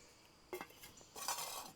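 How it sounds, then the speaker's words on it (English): Aluminum GSI Outdoors backcountry cooking pot and frying pan clinking together in a few light metallic knocks, a short one followed by a longer rattling clatter, fairly quiet and close. "So you've got your pot, your frying pan"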